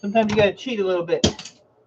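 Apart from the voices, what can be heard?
No everyday noise stands out behind the speech.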